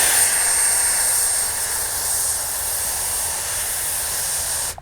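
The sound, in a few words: RC model jet engine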